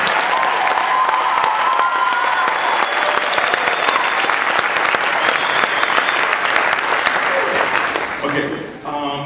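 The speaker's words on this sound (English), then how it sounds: "How about one more round of applause for them?" A large audience applauds the Young Americans performers in a dense, steady roar of clapping lasting most of the clip, tapering off near the end as a voice begins.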